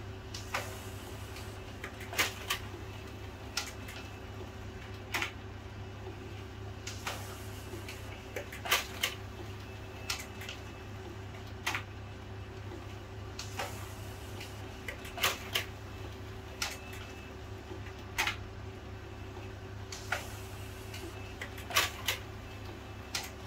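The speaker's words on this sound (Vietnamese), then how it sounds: "các bạn thấy máy in hoạt động ờ" An HP LaserJet Pro M402dn laser printer with a double-sided paper-jam fault runs a 10-page duplex job from the manual tray, humming steadily with irregular sharp clicks and clacks of paper handling, heard fairly faintly from nearby.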